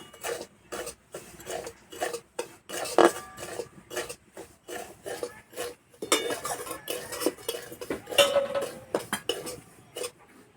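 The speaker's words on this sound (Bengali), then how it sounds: "সুজিটা হালকা একটু ভেজে নেব, যাতে সুজির কাঁচা গন্ধটা চলে যায়।" Dry semolina is stirred and lightly roasted in a kadai, a brisk rhythmic run of metal spoon scrapes and clanks against the pan, close and continuous.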